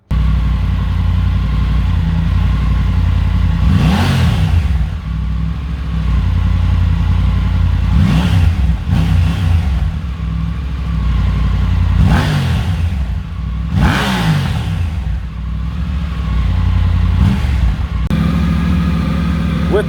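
A Triumph Tiger 900 fitted with an aftermarket exhaust and baffle idles with a deep rumble, then revs sharply four or five times in quick bursts, loud and close, each climbing and falling back to idle.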